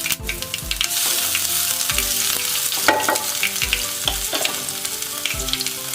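Finely chopped ginger sizzling in hot oil with popped mustard seeds, a tempering for millet upma, with a steady close crackle and several louder stirring scrapes spaced through it, no talk.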